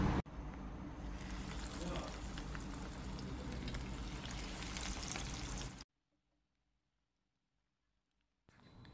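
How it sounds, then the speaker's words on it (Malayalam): Oil poured into a hot pan sets off a dense hissing crackle that holds steady for about six seconds, then drops to near silence before a faint noise returns at the very end. "അത് പാൻ ചൂടായി വന്നപ്പോൾ ഞാൻ അതിലേക്ക് എണ്ണ ഒഴിച്ച് കൊടുത്തു"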